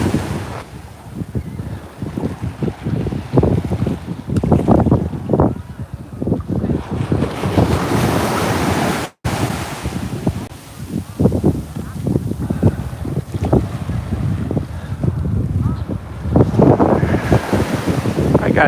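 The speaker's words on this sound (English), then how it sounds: "I'm live in Coney Island, New York, walking along the beach." Ocean surf at Coney Island beach in New York at sunset, with waves washing in and breaking repeatedly, heavy wind buffeting the microphone throughout and a brief dropout midway.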